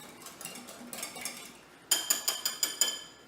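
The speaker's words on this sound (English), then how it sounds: "you're going to take a whisk and using our egg white from earlier that we saved, just beat that up a little bit" A whisk beats egg white in a bowl for cookies, first as a soft rapid swishing, then as six loud, evenly spaced metallic clinks against the bowl near the end.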